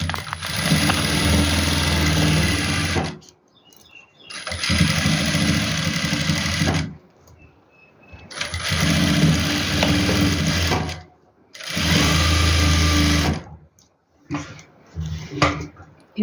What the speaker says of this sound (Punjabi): ਹੁਣ ਆਪਾਂ ਇਹਦੇ ਉੱਪਰ ਉੱਪਰ ਸਲਾਈ ਲਗਾਵਾਂਗੇ